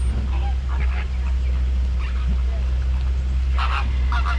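Several short honking squawks from flamingos, some near and some farther off, over a steady low rumble and faint background voices, on the Kilimanjaro Safari ride at Disney's Animal Kingdom.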